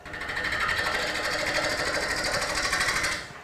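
A scraper tool rolled flat on its wing takes gentle cuts in a Bradford pear bowl spinning on an American Beauty woodturning lathe, giving a steady, continuous whirring rasp for about three seconds with no talking.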